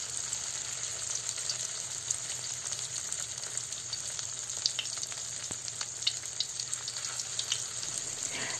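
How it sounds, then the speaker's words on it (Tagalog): Dynamite lumpia sizzle steadily in hot cooking oil, a dense, even crackle with scattered pops that runs unbroken throughout, fairly quiet with no voices. "At kapag mainit na ang mantika, ilagay na natin ang dynamite lumpia."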